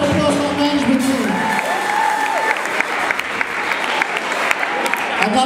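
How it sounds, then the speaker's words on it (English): An audience at a company holiday showcase applauds the management team, a loud, dense burst of clapping with some cheering, while a voice talks briefly over the start. "Give a round of applause for our management team."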